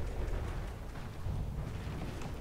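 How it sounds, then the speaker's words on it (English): Heavy battleship cannons firing in a From the Depths naval battle, a dense continuous rumble of low booms rolling together without clear gaps, loud and boomy throughout. "Pretty quick cannons there."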